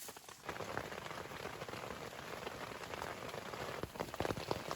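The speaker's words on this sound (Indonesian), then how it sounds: "Cuaca rintik-rintik syahdu" Steady light rain patters on surfaces on foggy Mount Raung, 3,344 m, a fine, continuous drizzle hiss with scattered nearby drops, heard alone with no talk.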